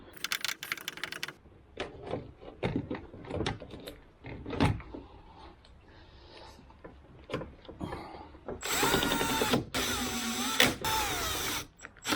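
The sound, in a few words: driving Torx T27 screw on car door handle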